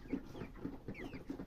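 Chickens in a chicken house on a poultry farm give repeated low clucks in a loose rhythm, moderately close but quiet, with no human speech.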